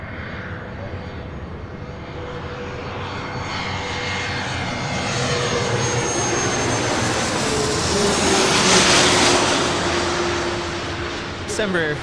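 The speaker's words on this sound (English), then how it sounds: "December Phenom is coming in from Van Nuys" Phenom business jet arriving from Van Nuys into LAX, a steady broad engine roar that swells gradually as it approaches and passes, loud and continuous throughout.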